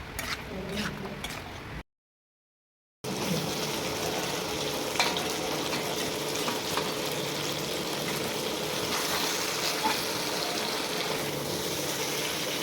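Chicken pieces and spices sautéing in a pan, a steady close sizzle with scraping and stirring, briefly cut by a short silent gap before resuming at an even level.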